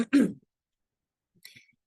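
A single rough throat clearing, followed after a pause by a faint short cough-like sound, in a quiet room.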